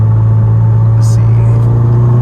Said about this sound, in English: I'm still getting a little bit of a hesitation or bogging when I'm in boost